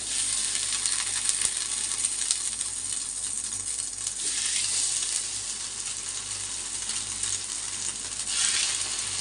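Bread slices frying in a thin layer of oil on a dosa griddle, giving a steady, close, moderately loud sizzle that holds evenly throughout with only slight swells and no talking.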